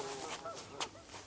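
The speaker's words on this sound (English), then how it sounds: "This is 3 geese I trapped yesterday." Geese honk in a short outburst, several overlapping nasal calls close by, with one louder honk standing out near the end.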